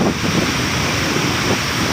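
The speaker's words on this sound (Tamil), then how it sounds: "ஒரு அருவி போன்ற ஒரு நிகழ்வு தான் இது" Water cascades like a waterfall over Anaimedu dam in Tharamangalam near Salem, a loud, steady, broad roaring rush heard close with wind buffeting and no pauses.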